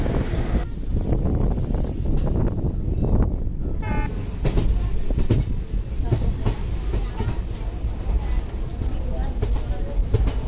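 An electric-hauled passenger train rolls into platform 6 at Manmad railway station on the Aurangabad–Manmad line, a steady loud rumble of wheels and carriages with rhythmic clatter throughout and a brief squeal partway in.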